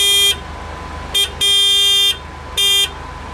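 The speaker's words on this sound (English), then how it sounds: "in case you want to know what the horn sounds like in an Ariel Atom" An Ariel Atom's car horn sounds four times, close and loud: a short honk, a brief blip, a longer sustained blast and another short honk, separated by near silence.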